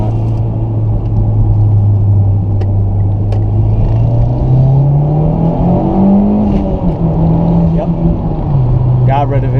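Mitsubishi Evo X engine pulling from 3,000 to 5,500 RPM, a steady loud droning rumble with a rising then easing whine, heard continuously from inside the car.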